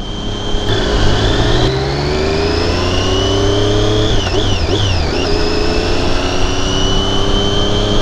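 A Daytona motorcycle rides along, its engine holding a steady, close drone with a brief wavering shift in pitch midway and no voices.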